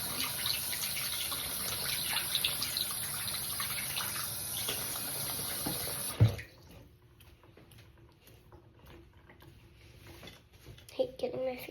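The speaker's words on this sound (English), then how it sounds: "We're going to start by brushing my teeth." Running tap water pours steadily into a sink during bedtime tooth brushing, then shuts off about halfway through with a short knock, leaving quiet room tone and faint scrubbing movements.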